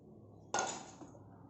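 A large pressure cooker, a heavy metal pot, is set down or handled with one sharp clank at close range, followed by a short ringing tail that fades over about a second.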